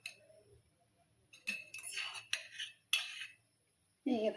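A metal tawa griddle pan is set on a kitchen stove, with several close metallic clinks and scraping knocks in an otherwise quiet room, ending in a heavier clunk.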